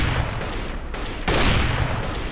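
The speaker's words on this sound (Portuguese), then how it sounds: "E agora dispara várias vezes." Rapid gunfire from the video game CS:GO, heard as a dense, loud, continuous burst of shots that swells slightly partway through, with no talking.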